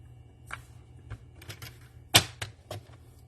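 A paper trimmer slicing a half inch off a sheet of paper: a few quiet scraping strokes and taps, with one sharper, louder cut near the end, close and alone over faint room hum.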